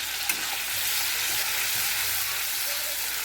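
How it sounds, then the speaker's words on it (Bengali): Spice paste cooked with beaten curd in a hot pan on high gas for a Bengali doi katla fish curry, giving a steady, loud sizzle and frying hiss close up, with faint stirring scrapes and no voices. "দিয়ে এটাকেও আমি একটুখানি কষাতে থাকবো।"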